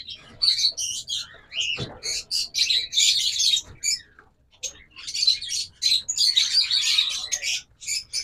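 Lovebirds and diamond doves kept as caged birds for sale chatter together in a dense, continuous flurry of high chirps and squawks, close and lively, with brief pauses between bursts.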